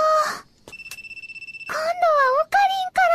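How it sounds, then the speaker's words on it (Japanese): Telephone ringing in a Japanese anime drama, a pulsing electronic ring tone cutting in between stretches of a young woman's expressive, high-pitched speech, close and clear. "また電話。"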